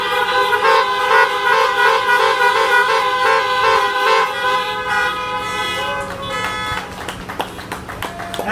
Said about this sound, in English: 10 honks. All right, just 10 quick honks.